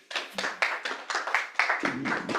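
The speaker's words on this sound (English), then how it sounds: "A round of applause, please." Rhythmic group clapping at a farmers outreach morning session, a steady beat of loud, close claps with no speech over it.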